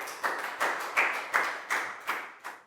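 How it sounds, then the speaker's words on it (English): Slow, rhythmic claps in a classroom for a pupil, seven or eight evenly spaced sharp hits, close and clear without any voices. "Big round of applause for Stu"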